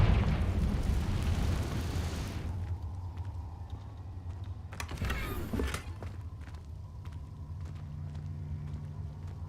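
A Confringo fire spell blasts in Hogwarts Legacy on hard mode, a loud rumbling burst followed by a second fiery crackle midway, over a steady low game drone.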